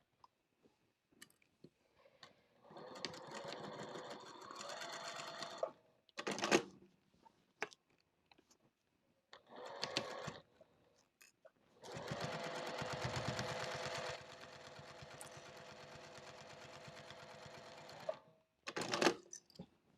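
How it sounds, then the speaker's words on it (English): A sewing machine stitches down the side of a fabric basket in several bursts of steady, rapid whirring, separated by short pauses and soft handling noises, close and alone. "So I'm going to stitch here, and then we're going to pick it back up and stitch here down the rest of the side."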